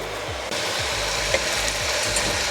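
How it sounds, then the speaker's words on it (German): Vegetables dusted with flour fry in a pan, a steady close sizzle with rhythmic scraping and stirring strokes repeating under it, no voices. "Und das jetzt wirklich einfach anbraten"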